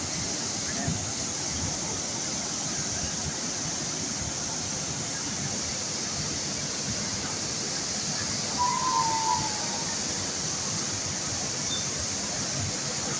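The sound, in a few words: El Meco waterfall, Huasteca Potosina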